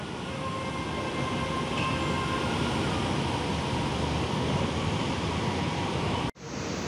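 Steady, loud rumble and hiss of an MRT metro train running on rails, with a faint high squeal, ending abruptly near the end.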